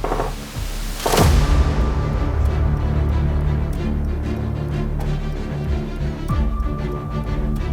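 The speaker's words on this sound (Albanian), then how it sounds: "Sistemi antitank 66 mm." A 66 mm anti-tank weapon fires during a military exercise: one sharp, loud blast near the start, followed by a long rumbling roll that slowly fades, with a fainter distant thud later on.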